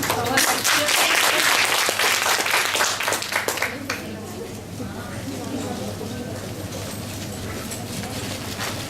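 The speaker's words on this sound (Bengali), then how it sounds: "এবার জোরে একটা হাততালি হয়ে যাক সবার জন্য।" An audience at a hospital soft-skills training session for nurses bursts into loud, dense clapping that lasts about four seconds, then fades into murmuring and a voice talking.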